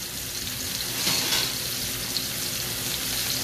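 Thin slices of meat for lemon beef searing in a hot pan, giving a loud, steady, close sizzle that holds evenly throughout.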